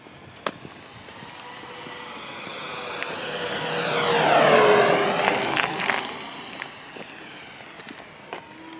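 An RC model airplane flies past outdoors, its engine drone rising and swelling to a peak overhead around the middle, then fading as it moves away, with a steady buzzing whine throughout and no talk.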